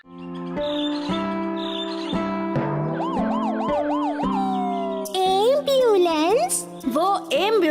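An ambulance siren wails with steady tones, then rising and falling pitch sweeps, loud and close, growing more insistent toward the end.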